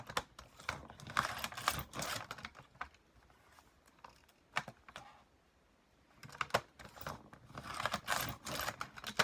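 Scissors snip through strips of photo paper in quick bursts of crisp cuts, close and quiet, with a pause in the middle before the cutting resumes.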